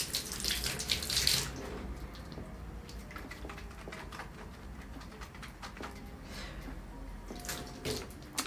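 Lukewarm tap water runs for shampooing hair after a hair transplant, a close splashing gush that starts loud, then settles into a softer trickle and spatter under light background noise.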